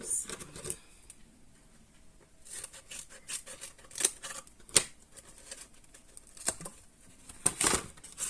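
Scissors snip through craft material while assembling a beginner's box, giving several short, sharp cuts scattered across the clip with quiet pauses between them, close and moderately loud; no talking over the cuts.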